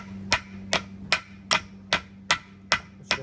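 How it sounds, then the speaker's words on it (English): A small hammer taps a bearing into the rear suspension of a Hillman Imp during restoration: eight evenly spaced sharp metallic knocks, close and clear, about every half second, with a faint hum underneath. "we'll just give it a little bit of a tap to go in a bit more. It's a bit of a small hammer, this really."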